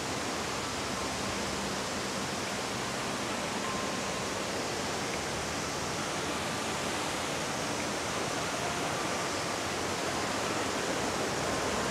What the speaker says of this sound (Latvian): Šis ir mans otrais ūdenskritums.